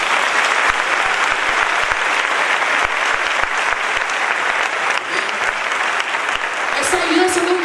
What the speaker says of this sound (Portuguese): eu queria que você desse uma salva de palmas ao Senhor.